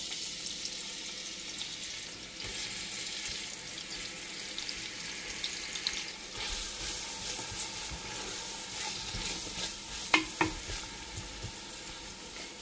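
Chopped onion sizzles steadily in hot olive oil in a pan, a continuous broadband hiss with occasional stirring scrapes and a sharp clatter near the end; no one speaks.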